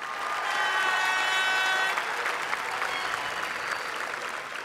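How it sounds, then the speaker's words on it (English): A large audience at a 2018 high school graduation ceremony gives steady, dense applause for the graduating students, a sustained wash of clapping that holds strong and tapers slightly, with a faint voice briefly beneath it. "Round of applause for our students."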